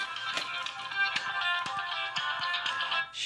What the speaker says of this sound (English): That was my phone going off. I forgot to put it on vibrate.